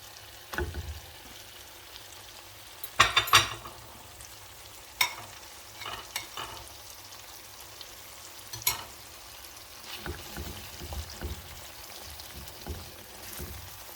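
Tomato paste and harissa fry in a pan for a Tunisian sauce, a soft continuous sizzle broken by scraping stirs and occasional sharper crackles and clatters, quiet and close by.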